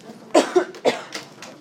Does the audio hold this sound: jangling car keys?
no